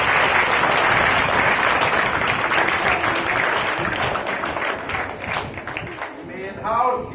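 Audience at a Diwali event applauding, dense sustained clapping from a crowd that thins and fades toward the end.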